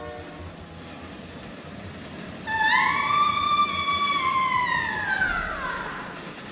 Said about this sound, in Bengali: Train, train!